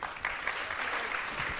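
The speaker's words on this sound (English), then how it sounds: "Let's give our panelists another round of applause." Audience applause for panelists at a fashion education workshop, a short burst of steady clapping from a crowd at moderate distance.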